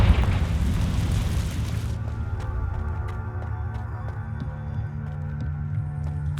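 Confringo spell explosion in the Hogwarts Legacy video game: a loud, deep blast at the start that rolls off into a long rumbling decay, with faint ticks and a low hum beneath.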